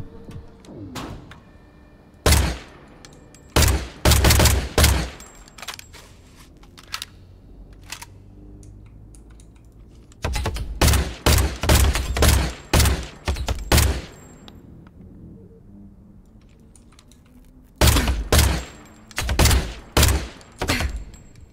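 Bursts of rapid gunfire in the video game Industria, three separate volleys of sharp close shots spaced several seconds apart, with quiet ambience in between.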